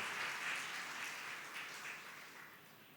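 A church congregation applauding together at a Feast of the Exaltation of the Holy Cross service, a soft, distant wash of clapping that holds steady and slowly fades over a few seconds.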